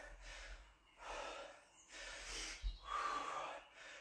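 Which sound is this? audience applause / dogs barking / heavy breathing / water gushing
heavy breathing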